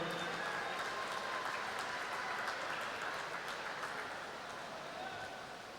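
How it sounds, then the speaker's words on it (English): An audience at a swimming championships pool deck applauds as a swimmer is introduced, a dense, even patter of clapping that holds steady and then tapers slightly toward the end. "Give her a big round of applause, everyone."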